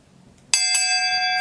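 A single bell struck once and left ringing, a bright, clear metallic tone with a sharp onset and a long sustained ring, close and alone with no talk.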